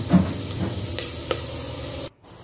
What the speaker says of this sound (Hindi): बटर में ये प्याज मोटे हुए कटे अदरक लहसुन डालकर इसको सोटे कर लिया है